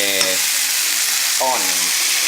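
Onions sizzle steadily in a hot pot for a Dominican-style chicken stew (pollo guisado), a dense, even frying hiss throughout with two brief voice fragments rising over it.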